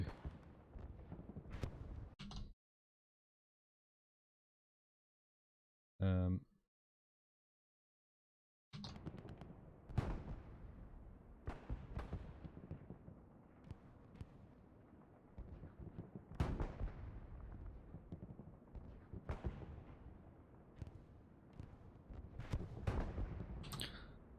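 Heavy booming artillery blasts and sharp cracks of gunfire in the video game Hell Let Loose roll on in irregular bursts, broken by a few seconds of silence and a brief tonal blip.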